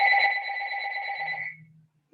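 A phone rings with a bright, steady electronic tone that holds for about a second and a half and then stops, leaving a brief low hum in a quiet room.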